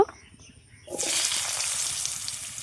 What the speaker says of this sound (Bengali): আবার অল্প একটু তেল দিলাম কুমড়োটাও ভেজে নেব